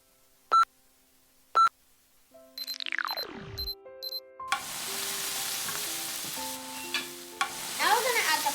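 Food goes onto a preheated griddle or frying pan after a few electronic timer beeps and a falling tone, then sizzles loudly and steadily in a continuous close frying hiss.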